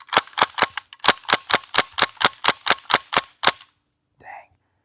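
A VFC PPSh gas blowback airsoft rifle fires about thirteen quick, evenly spaced shots, each a sharp, loud crack. A brief pause and a faint short sound follow.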